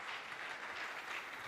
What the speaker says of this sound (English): I think that is a round of applause